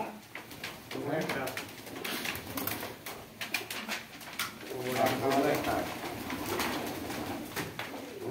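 Pigeons coo repeatedly at a pigeon farm in Bangladesh, a steady low murmur running beneath people talking nearby.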